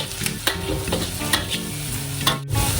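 Radish cake ingredients frying in about three tablespoons of cooking oil, a steady close sizzle with repeated scraping stirs and clinks throughout.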